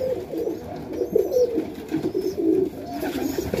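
Soft cooing from highflyer pigeons in a loft, with several low, rounded coos in irregular bursts close by and a constant murmur of birds behind them.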